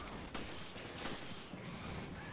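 Pistol shots fired at hunter creatures in the video game Resident Evil Revelations: a few sharp, loud cracks spaced roughly a second apart over a steady bed of game noise.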